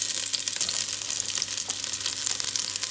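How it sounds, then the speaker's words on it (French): Sliced onions browning in a little olive oil inside a casserole pot make a bright, continuous hiss and crackle close up, with no voices over it. "je vais blondir mes oignons, je les ai émincés dans une cocotte avec un petit peu d'huile d'olive"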